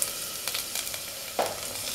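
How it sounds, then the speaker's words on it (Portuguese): Garlic frying in olive oil in a small pan gives a steady low sizzle with faint crackles, and one slightly louder pop near the middle, with no talking. "numa frigideira, numa panelinha, vamos colocar azeite e alho."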